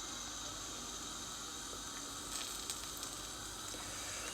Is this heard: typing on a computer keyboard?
no